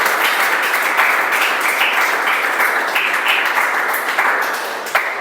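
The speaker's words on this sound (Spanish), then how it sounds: "Eso merece un aplauso." A church congregation in Albal, Valencia, claps together in a steady, lively burst of applause, with a few sharper individual claps standing out as it gradually tapers off.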